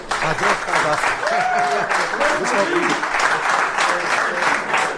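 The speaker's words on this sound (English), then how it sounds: "Give a round of applause to Ma Welch, everybody" Steady, dense applause from a live audience at a Champions League preview night, welcoming a guest named Ma Welch, with faint voices and scattered calls mixed in throughout.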